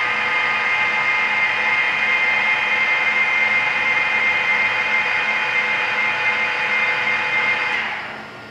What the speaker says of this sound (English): Tos Fn20 milling machine conversion running on CNC under Mach 3 control.